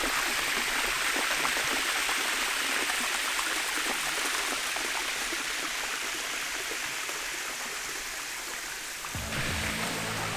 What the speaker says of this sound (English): you got a nice little waterfall to listen to all night